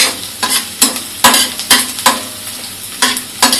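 Curry leaves hit hot oil for a tempering (chhaunk) in masala rice, giving a steady close sizzle broken by regular scraping stirs of a spoon in the pan, with no talking.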